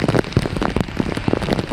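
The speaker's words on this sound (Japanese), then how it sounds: "今再び雨が強まってきました。" Heavy rain pours down outside a train station during a typhoon, a dense, loud hiss of drops spattering on flooded pavement and road surfaces, steady and close with no talk.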